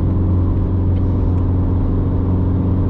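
Porsche Cayman race car passing on the track, a loud steady engine whine and drone with dense harmonics heard from inside a car, holding level throughout without a distinct rise or fade.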